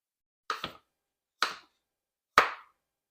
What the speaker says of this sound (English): we're going to chop it into kind of like slices